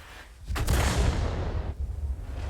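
A Hummel self-propelled gun fires in a tank battle video game: one heavy, booming artillery shot with a sharp crack and a long rumbling tail, loud and alone, with no voices.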